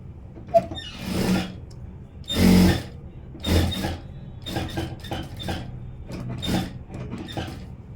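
A sewing machine stitches a princess cut blouse in short, close bursts of whirring needle action, separated by brief pauses and light handling clatter.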